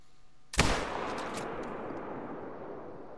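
A single loud rifle shot cracks at a sika deer during a hunt, its sharp report rolling into a long fading echo across open ground.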